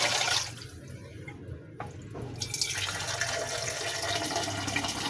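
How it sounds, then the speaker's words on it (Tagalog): Water pours steadily into a cooking pot holding a whole chicken, a continuous splashing fill that runs throughout without pause, close and moderately loud. "Lagyan natin ng tubig kasi paanuhin natin talaga yan"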